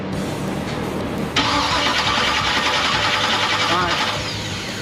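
The starter of a 1957 Chevy engine cranks with a steady, whirring churn that starts abruptly and runs on for several seconds. Voices can be heard faintly under it.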